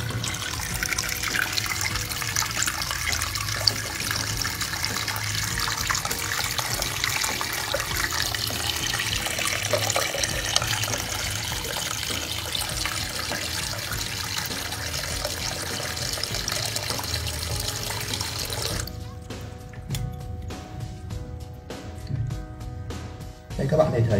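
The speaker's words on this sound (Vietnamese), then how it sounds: "mình sẽ xả thẳng nước vào mặt chiếc đồng hồ này." Tap water pours directly onto a wristwatch face, a steady close rushing stream that runs continuously for most of the stretch before cutting off near the end, leaving quieter handling noises.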